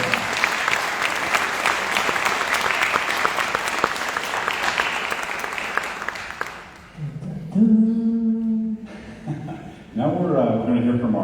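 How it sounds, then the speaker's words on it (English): A crowd at a candidate forum applauds loudly and steadily for several seconds, then the clapping fades and a person begins talking. "Let's give them a big round of applause."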